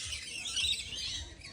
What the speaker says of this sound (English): Oh, I'm feeding the birds!